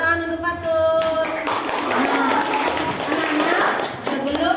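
Classroom of children clapping their hands together for a classmate, a sustained burst of dense, overlapping claps with some voices mixed in.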